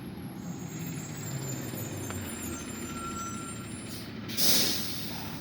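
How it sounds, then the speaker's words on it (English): A school bus idles nearby with a low engine rumble, then releases a sharp hiss of air brakes. "So we're just waiting for the bus now. Oh, we hear it."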